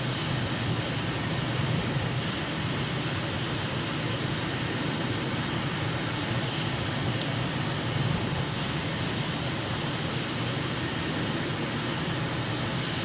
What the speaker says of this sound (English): That was runway 25 left that we watched the Airbus land on